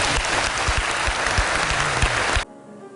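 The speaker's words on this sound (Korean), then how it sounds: "여러분 박수로 환영합니다." An audience at a classical concert with commentary claps in warm, dense applause welcoming the performers, steady and close before cutting off abruptly near the end.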